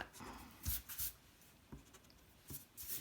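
A pencil drawing of the Grinch on paper is erased in short, faint rubbing bursts, a few quick strokes separated by brief pauses, close and quiet.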